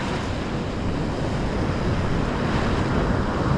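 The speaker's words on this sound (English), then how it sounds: "Watch this next set of waves kind of do its thing." Big surf pounds a beach below an eroding landslide slope, a constant roaring wash of breaking waves mixed with wind buffeting the microphone, loud and unbroken with no talk.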